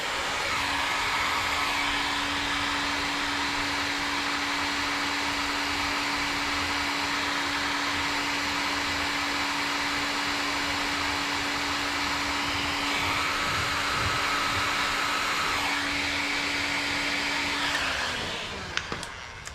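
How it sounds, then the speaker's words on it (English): A heat gun blows a steady, loud stream of hot air onto heat shrink during Fiat 500 Abarth wiring work, holding a constant whine for most of the stretch before cutting off near the end. "Again, we're using a heat torch, heat gun."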